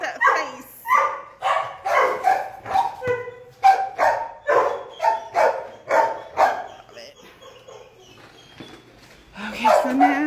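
Dogs at an animal shelter bark in a rapid, loud series of repeated barks close by, with a brief whimper and yip near the end.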